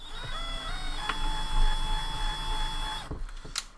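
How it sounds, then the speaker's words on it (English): A power drill whines steadily with a high-pitched tone for about three seconds while drilling metal, then stops, followed by a couple of clicks and knocks. "So I'm going to drill ever so slightly."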